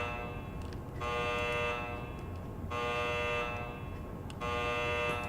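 Alarm buzzer in the video game Hidden and Dangerous 2, sounding as a steady harsh electronic tone that pulses in long on-off bursts over a low background rumble, with no talking.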